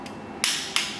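Two sharp clicks from a torque wrench tightening a camshaft thrust plate bolt on a 5.3L LS LM7 V8 engine, spaced about a third of a second apart against a quiet background.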